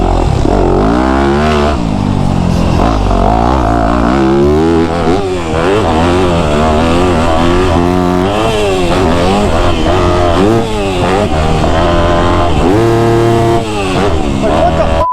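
Motocross dirt bike engine on an MX track, revving hard and continuously with rising and falling pitch as the rider jumps on the gas, loud and close throughout.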